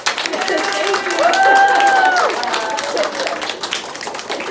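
An audience at an artist talk claps for helpers, a modest round of applause with scattered cheers, and a voice speaking over it.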